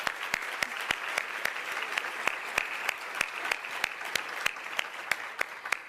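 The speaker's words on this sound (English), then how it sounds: "Let's also give them a round of applause" An audience at an annual leadership event applauds the sponsors, steady, even clapping from a moderate-sized crowd filling the room throughout, with sharp individual claps standing out at close range.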